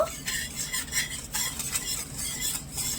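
Sugar and milk powder being stirred into rice in a pan, a spoon scraping and swishing in steady, close strokes with a light sizzle beneath, alone with no voices.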